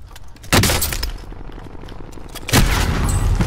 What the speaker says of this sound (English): I just get sniped from out of nowhere.